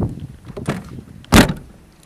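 Driver's door of a Land Rover Defender 110 200TDi station wagon being shut, a faint earlier clunk then one loud close thud, near and alone.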